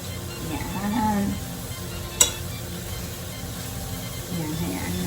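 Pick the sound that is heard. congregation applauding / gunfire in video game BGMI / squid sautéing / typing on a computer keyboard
squid sautéing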